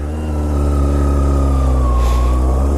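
Sport bike engine idling as it warms up, a steady close rumble with a slight rise in pitch partway through, alone without talk.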